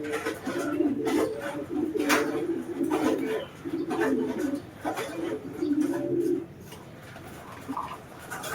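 Pigeons coo close by in repeated soft, throaty phrases, rising and pausing in an uneven rhythm over a steady outdoor background, with no talk.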